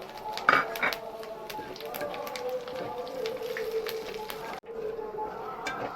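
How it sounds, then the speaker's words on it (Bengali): Dried red chillies, bay leaves and panch phoron sizzle and crackle in hot oil that was used to fry prawns, a busy spattering close by, with someone speaking over it. "চিংড়ি মাছ ভাজা তেলেই আমি 2টো শুকনো লঙ্কা ফোড়ন দিয়ে দিচ্ছি আর 2টো তেজপাতা আমি চিড়ে দিয়ে দিচ্ছি"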